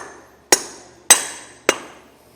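Three sharp, evenly spaced hammer blows, close and loud, drive a double lip grease seal into a 3,500-lb trailer axle hub, each strike ringing briefly before fading.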